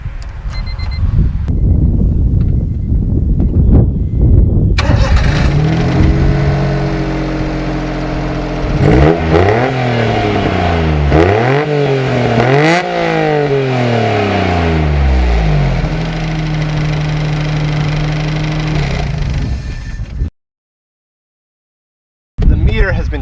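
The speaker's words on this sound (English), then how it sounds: "Why don't we fire it up and see what the engine sounds like?" A small Japanese car imported from Japan, its odometer replaced, starts up and runs nearby, the engine revving repeatedly up and down before settling to a steady idle, with people talking over it.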